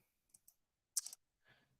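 Computer mouse clicking: a couple of faint, sharp clicks followed by a brief louder cluster of clicks, then a soft rustle in a quiet room.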